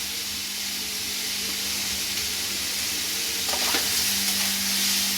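Tomato and cabbage with meat and potato frying in a pan, stirred now and then, with a steady close sizzle and hiss and a brief scrape of the utensil near the middle.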